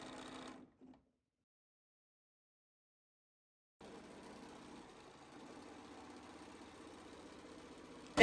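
A sewing machine fitted with a #43 couching foot starts up after a stretch of silence and keeps running steadily with an even, fast mechanical hum and clatter.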